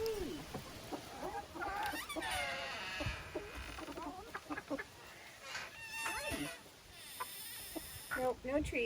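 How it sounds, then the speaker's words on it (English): Backyard chickens in a flock cluck and squawk nearby while following a person carrying a bucket, with repeated short calls rising over one another and a few louder squawks near the end. "I walked by Ash's flock with a bucket so they think it's treats"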